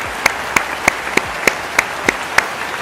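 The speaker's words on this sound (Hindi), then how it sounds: "जोरदार तालियां इन दोनों के लिए" A single person's slow, evenly spaced hand claps, eight sharp, distinct ones at a steady beat over a quiet room hum, at a product launch event for a training company in India.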